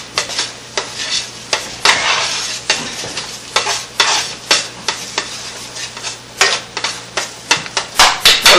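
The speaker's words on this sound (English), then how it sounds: "And you got to keep stirring it, because if it burns, it's not good." Flour being stirred in a pan for chicken gravy produces rapid, rhythmic scraping strokes. Repeated spatula knocks against the metal sit over a low sizzle, loud and close, and no one speaks.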